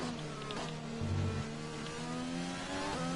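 A Formula 1 car engine from the video game F1 2020 drones steadily as the car drives slowly toward the pit lane in Bahrain, with slight shifts in pitch and a brief rise in revs, and no talking.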